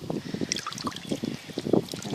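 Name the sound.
water poured to soak peat moss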